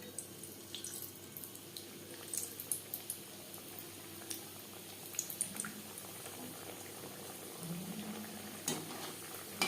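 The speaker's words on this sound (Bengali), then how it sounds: "প্রত্যেকটা প্যাটিস একইভাবে ভেজে নেব" Chicken patties fry in oil with a faint, steady bubbling hiss. Soft pops and light clatters of a utensil break through now and then, and nobody speaks.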